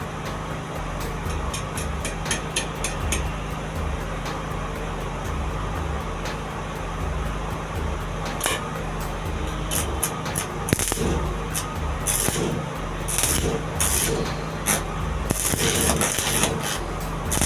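Homemade welding machine striking an arc, giving a steady close crackling hiss with sharp bursts and pops that grow denser toward the end.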